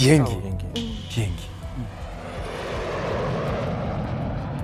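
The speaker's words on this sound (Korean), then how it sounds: "비행기." A fixed-wing airplane's engine rises from under a speaking voice into a steady, broad roar that fills the space once the talk stops.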